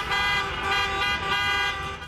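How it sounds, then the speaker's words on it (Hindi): Car horns honked by protesters in the street, several loud, sustained blaring tones overlapping into one continuous chorus of honking nearby. "लोगों ने विरोध जताने के लिए अपनी गाड़ियों के हॉर्न भी बजाए।"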